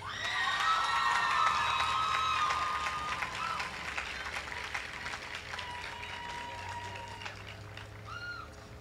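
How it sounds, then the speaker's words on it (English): A high school graduation audience claps and cheers for the graduates, with scattered shrill shouts and whistles over a broad wash of applause that is loudest at first and then gradually fades. "I believe we, the graduates, deserve a moment of applause"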